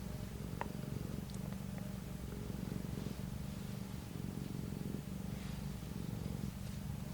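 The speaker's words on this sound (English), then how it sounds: "She's just over here purring." A cat purrs close by, a soft, low rumbling with a steady pulsing rhythm that continues quietly for several seconds.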